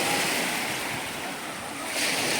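Sea waves wash on a rocky, undeveloped shore, a broad rushing surf roar that dips slightly mid-way and swells again, mixed with wind noise against the microphone.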